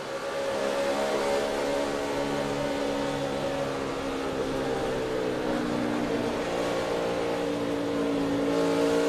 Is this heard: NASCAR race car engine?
yes